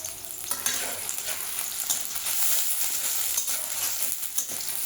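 Sliced onions fry in a pan for a spicy chicken and potato curry, a continuous crackling sizzle with intermittent stirring scrapes, moderately loud and close, with no voices.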